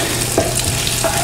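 Ginger and onion sautéing in a hot pan, a steady close sizzle with faint stirring scrapes and no talk over it.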